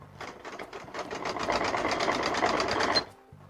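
A sewing machine stitches the sleeve onto a suit in a quick, steady run of close, even needle beats that fades in, holds for about three seconds, then stops abruptly.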